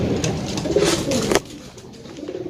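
Pigeons, all hens, cooing inside a large wire aviary cage, soft repeated coos layered with faint chirps at moderate distance before the sound drops to a quieter background.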